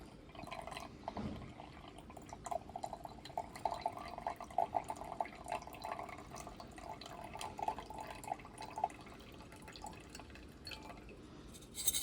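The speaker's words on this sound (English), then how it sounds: "I poured out most of the liquid here" Liquid is poured off from a lab container of sediment in a red bed formation model, heard as soft, irregular dripping and trickling splashes over about twelve seconds, fairly quiet and without speech.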